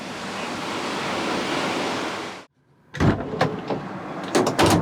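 Surf washes in with a steady broad rush that abruptly cuts off, followed by irregular gusty bursts of wave or wind noise.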